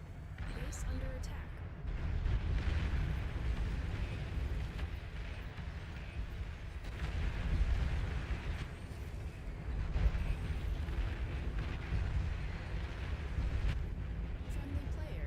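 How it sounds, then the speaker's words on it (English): Long-range plasma cannon fire and explosions from the real-time strategy game Beyond All Reason, a dense, continuous rumble of booming blasts and bursts running throughout at steady loudness. "Long-range plasma cannon targeting your units. Base under attack."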